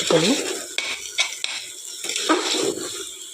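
Pulao with dill leaves frying in a pan, a loud close sizzle broken by repeated clinks and scrapes of a metal spoon stirring against the pan.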